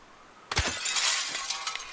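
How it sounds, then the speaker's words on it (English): A glass window shatters in the video game XIII: one sharp crash at the start, then a bright spray of breaking shards tinkling and scattering for over a second, loud and close with no talk. "I think there's glass in this window."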